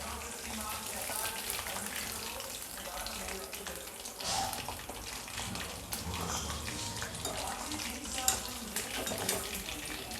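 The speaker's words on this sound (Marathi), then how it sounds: "आपली कोटिंग पण चांगली फ्राय झालेली आहे बघा" Coated soybean chunks deep frying in hot oil for soybean manchurian, a dense continuous bubbling sizzle, close and steady across the clip with a few brief crackles.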